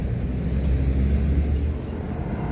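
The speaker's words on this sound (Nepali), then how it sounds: "त्यो प्लेन चाहिँ तीव्र गतिमा आफ्नो गन्तव्यतिर लागिरहेको छ" An airplane passes overhead with a loud, steady low rumble throughout, easing slightly toward the end, heard alone without speech.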